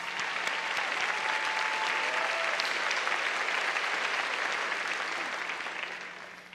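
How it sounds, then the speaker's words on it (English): A large commencement crowd applauds the Senior Challenge Committee, a broad, dense wash of clapping that holds steady and then tapers off at the end. "Let's give them a round of applause for their dedication to our class."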